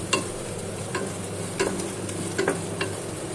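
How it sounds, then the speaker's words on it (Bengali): Bay leaf, cardamom and cinnamon sizzling in hot mustard oil as a spoon stirs them for beef tehari, a steady close frying hiss broken by several sharp scraping clinks of the spoon against the pan. "দিয়ে ভালোভাবে নেড়েচেড়ে নিচ্ছি।"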